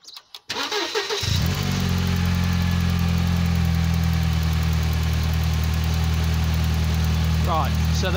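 A supercharged Mercedes Kompressor engine cranks briefly then settles into a steady, loud low rumble at idle with the bypass valve open, with a few faint chirps late on.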